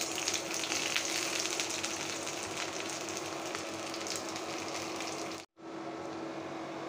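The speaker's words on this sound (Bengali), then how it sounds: "পেঁয়াজ অলমোস্ট ভাজা হয়ে গিয়েছে।" Onions frying in hot mustard oil in a home kitchen, a steady close sizzle and crackle that runs unbroken for several seconds, then cuts out abruptly for a moment before resuming.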